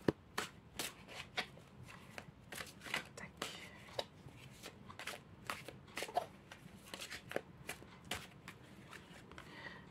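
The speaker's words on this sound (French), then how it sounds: "Je vais battre les cartes." Tarot cards are shuffled by hand close up in a quiet room, giving a long series of soft, crisp riffles and slaps at an irregular pace with some faint talk.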